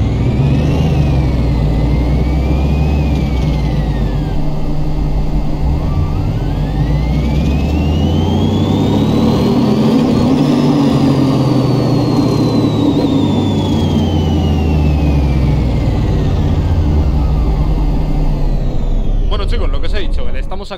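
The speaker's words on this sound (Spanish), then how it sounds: "vamos a hacer la prueba, a ver qué potencial hemos sacado de este motor" A Ferrari F50 engine in Car Mechanic Simulator 2018 revs loud and continuous on a dyno run, pitch climbing and falling in long sweeps, with a rising whine that peaks midway and a brief change near the end.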